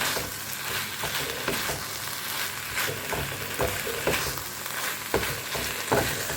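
Meat being sautéed kosha-style in a pan, a dense continuous sizzle and crackle with intermittent scraping stirs, close and steady with no talking.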